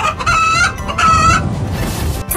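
A chicken clucks and calls close by in two drawn-out, tonal bursts, then a short scratchy rustle follows.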